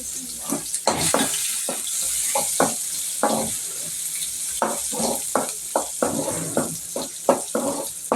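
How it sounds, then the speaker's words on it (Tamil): Green chilies, ginger and garlic fry in a pan, a steady soft sizzle broken by repeated scraping stirs and clinks of a spoon against the pan at close range. "பச்சை மிளகா வதங்கிற டைமில் இஞ்சி போட்டுறேன் இஞ்சி இந்த பூண்டையும் போட்டுறேன்"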